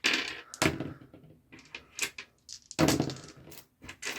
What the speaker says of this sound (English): you can just grab a handful and toss them in, and they fly off the table.